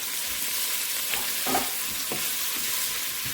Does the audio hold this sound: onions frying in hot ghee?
yes